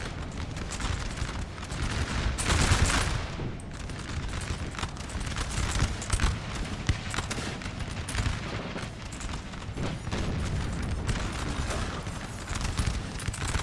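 Skirmishers trading musket fire in Napoleon Total War, dense crackling volleys of shots popping near and far in a continuous irregular battle din with heavy rumbling underneath.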